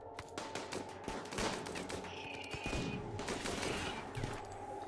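Rapid bursts of gunfire from the game RimWorld crackle in quick, overlapping volleys, fairly faint and steady across the span.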